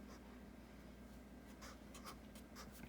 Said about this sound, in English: Let me write it out formally.